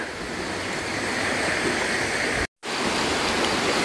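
Steady rushing water flows continuously from a nearby river at a campsite, loud and unbroken apart from a brief cut.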